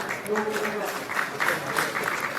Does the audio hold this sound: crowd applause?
yes